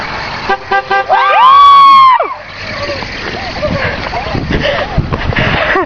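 Car horns honk from passing vehicles on a road: short toots early on, then one long sustained horn blast lasting about a second, followed by traffic noise and people talking in the background.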